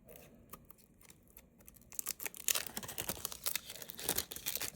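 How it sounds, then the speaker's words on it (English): Scissors snip and crinkle through the plastic packaging of a Rabbit R1 case, starting with quiet, scattered cuts and building into a denser run of crackling cuts and tearing, with no talking. "there's more plastic that needs to be cut"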